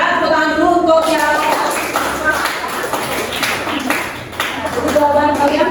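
Students in a classroom clap together for a classmate, a brief burst of hand claps that rises and fades, mixed with a teacher's voice talking over it.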